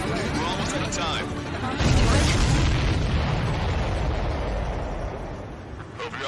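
Rumbling explosions boom through a dense, continuous roar in the Ace Combat 7 flight game, loud and sustained, with a heavier blast surging partway through.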